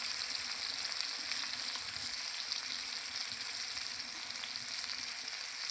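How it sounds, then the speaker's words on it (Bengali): Corn fritters frying in hot oil give a steady, close, hissing sizzle that holds evenly throughout with no talking. "আমি ভুট্টার বড়া বসিয়ে দিয়েছি, হচ্ছে আস্তে আস্তে।"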